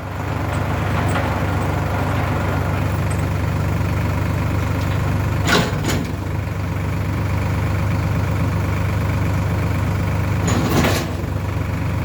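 A Solis 50 tractor drives a 180 rotary tiller with a loud, steady diesel drone and a churning rumble, close and continuous throughout. A couple of brief rattling swells break through it.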